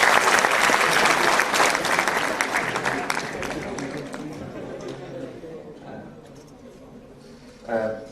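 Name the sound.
audience applause welcoming speaker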